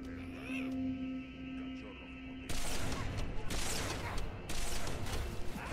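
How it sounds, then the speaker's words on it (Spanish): Rapid bursts of turret gunfire in the video game Halo 3 ODST, loud sustained volleys starting partway in with a brief pause between them, following quieter game ambience with a tonal hum. "No dejéis que esa maldita torreta dispare ni una vez más"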